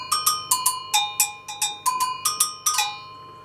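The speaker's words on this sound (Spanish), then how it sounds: "Otros metales son como el iron bell, un agogó brasileño" A Brazilian agogó, an iron bell, struck in a quick bright rhythm of about a dozen sharp metallic hits, each ringing briefly, close and clear with no speech.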